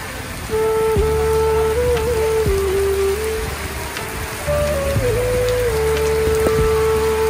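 Heavy stormy rain falls steadily and loudly as a dense broadband wash, with a continuous tonal hum and a few sharp thumps running under it throughout.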